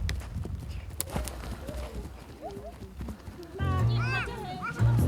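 A horse clip-clops at a steady walk while young children ride it at a Mongolian family gathering, the hoofbeats running under lively children's chatter and adult voices throughout.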